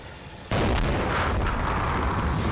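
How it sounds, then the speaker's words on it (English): German artillery fire in the WWII tactics game Combat Mission: Battle for Normandy, a sudden loud blast followed by a sustained rumbling barrage of further impacts, heard alone without talk. "That's some German artillery, I hope."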